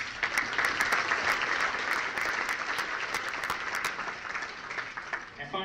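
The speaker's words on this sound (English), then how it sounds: "If we can hear a round of applause for those, please." A banquet audience at the 2020 Iron Dog Banquet & Racer Draw gives a steady, full round of applause, dense clapping holding at an even level for the whole stretch.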